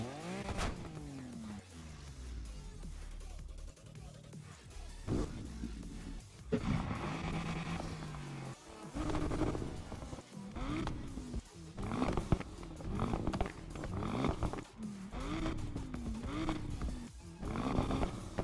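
Upgraded car engine in Need for Speed Unbound, a deep growling roar that rises and falls through repeated revs and gear changes, loud and close with no talk over it.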